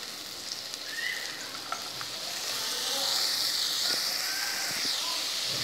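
Cabbage sizzles and fries in a hot pan with chopped chillies, a steady close hiss that swells louder and busier partway through, with a few light stirring clicks.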